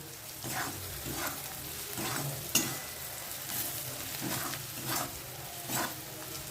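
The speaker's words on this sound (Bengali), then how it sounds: "এই পেঁয়াজটাকে ভাজতে হবে।" Onion and spice masala fries in a pan with Kashmiri red chilli powder for a shola kochu and masoor dal dish. A steady close sizzle runs throughout, with rhythmic stirring scrapes about every second and one sharp clink midway.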